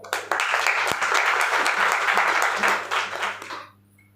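Audience clapping at a health awareness programme, a dense burst of applause that holds steady for about three seconds and then fades out quickly.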